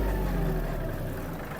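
A Yanmar AF-324 mini tractor's engine runs steadily with its rotary tiller and driveshaft engaged at fourth gear, a loud, continuous low mechanical drone held close and alone for under two seconds.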